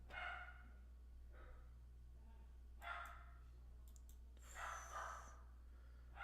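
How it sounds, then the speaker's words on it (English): A dog barks in several short bursts somewhat off in the background, spaced irregularly over a steady low hum, with no talk in between. "Sorry for the dog."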